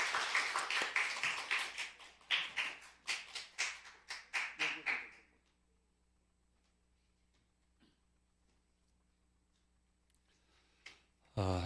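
A church congregation at a Friday night revival service applauding a guest pastor in rhythmic bursts of clapping for about five seconds before falling quiet.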